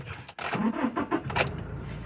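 A Toyota Hilux with a 1GD diesel engine cranks and catches after a repair, giving a brief starter whir followed by a rough, mid-pitched idle rumble that sits close and moderately loud.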